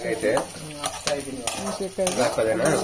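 Onions sizzle in a pan as a utensil scrapes and stirs repeatedly, clinking against the metal in quick bursts.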